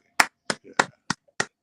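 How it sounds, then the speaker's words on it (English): A single person claps by hand in a studio, six sharp, evenly spaced claps in under two seconds, loud and close with brief silence between them. "Why are you clapping, Keith?"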